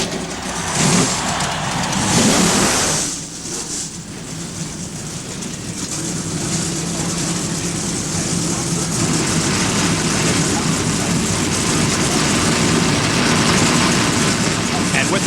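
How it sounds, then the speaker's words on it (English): NASCAR stock car engines fire up at Bristol's short track in 1993 and settle into a loud, sustained rumbling idle, with a brief announcer's voice early on. "Drivers, start your engines."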